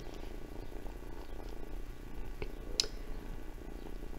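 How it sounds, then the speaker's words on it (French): A domestic cat purrs right beside the microphone, a steady low rumbling texture running through the whole stretch, with one brief sharp click near the end. "C'est le chat qui ronronne et le micro est juste à côté."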